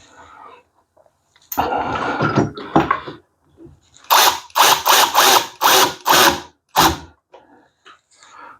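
A ratchet tightens a sink drain fitting in a bathroom, two short bursts of clicking followed by five quick, loud ratcheting strokes in a row, close up.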